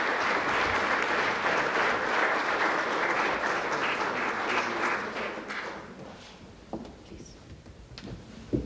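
Hall audience applauds Ambassador Lakshmi Puri at a charity concert, dense sustained clapping that thins and fades to scattered claps and room noise toward the end.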